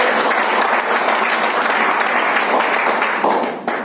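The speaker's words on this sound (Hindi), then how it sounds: "जोरदार तालियां संजीवनी के लिए" Loud, close applause from an audience at a business meeting in Sirsa, a dense continuous wall of clapping that holds steady and then tapers off at the end, with no talk.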